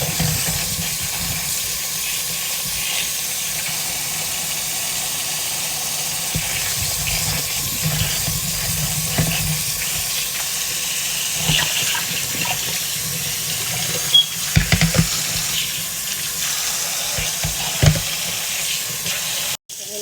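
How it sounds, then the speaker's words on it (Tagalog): Fruit is washed under a running tap, with a steady, close hiss of water that carries on throughout, broken by a few soft knocks and splashes. "Hugasan natin ng maayos ang prutas na ito."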